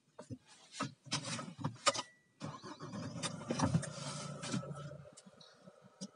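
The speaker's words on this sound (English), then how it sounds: "Let me just start it up for you." Mahindra Marazzo engine cranking and catching from inside the cabin, a brief start followed by a steady idle hum, with a short chime and interior clicks and rustling around it.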